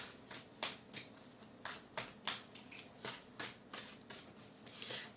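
Tarot cards are shuffled by hand in a quiet room, a series of crisp, close riffling bursts in an uneven rhythm of about a dozen strokes, with no voice over them.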